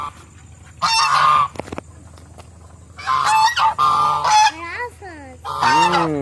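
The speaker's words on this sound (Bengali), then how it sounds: "এই যে রাজ হাঁসগুলো" Domestic geese honk loudly at close range near a fish pond in Diamond Harbour, in three strong bursts of overlapping nasal calls separated by short pauses.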